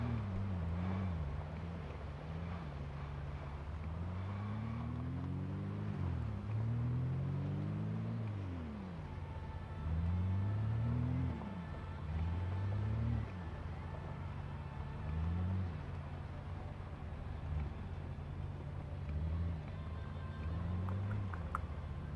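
A car engine in the video game Project Zomboid revs up and down repeatedly in steady cycles, pitch rising and falling with each acceleration, continuous and fairly close.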